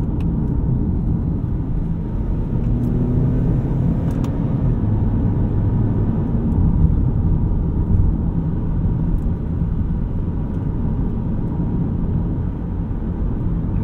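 A 2013 Acura TSX Wagon with a 200-horsepower engine and paddle shifters, heard from the cabin while driving, gives a steady, loud low rumble that stays even, as if the revs are held up, with no talk over it.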